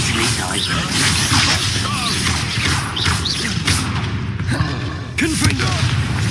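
Spell-casting explosions in the Hogwarts Legacy video game, a loud, dense barrage of blasts, whooshes and crashes running continuously, with shouted combat voices layered throughout.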